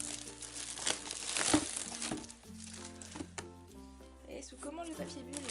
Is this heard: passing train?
no